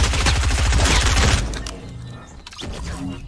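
Desert Eagle fire in a battle royale shooter, a loud rapid burst of gunfire for over a second, then a short pause and another sharp shot with fading echo.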